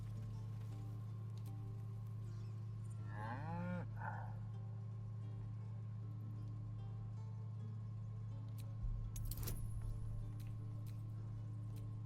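An ox in the video game Baldur's Gate 3 gives a single drawn-out moo, a rising then falling call lasting about a second, set against a steady hum of game ambience with a soft patter later on.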